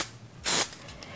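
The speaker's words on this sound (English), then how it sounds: "making sure to spray in the direction that I want the hair to go" Hairspray from an aerosol can is sprayed lightly onto hair during updo styling, one short hissing burst close by, alone in quiet.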